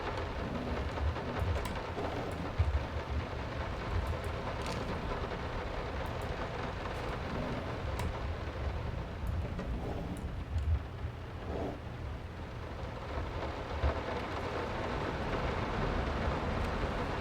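Steady rain pouring down in the horror video game Layers of Fear, a constant dense hiss with faint low rumbles and occasional drip-like ticks, heard alone.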